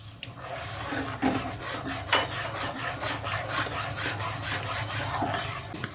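Rhythmic scraping strokes of a spoon stirring palm fruit pulp and milk in a pot, repeated rubbing sounds at a moderate pace, fairly quiet and close.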